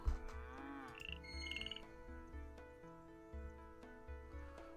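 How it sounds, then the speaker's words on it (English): Loud frog croaking in the Milkmaid of the Milky Way video game, a short burst of ribbity calls and chirps at the start over a steady looping music bed, no talking. "Well, now I have a loud frog."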